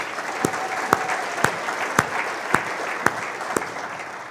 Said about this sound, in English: Let's give Abby another round of applause.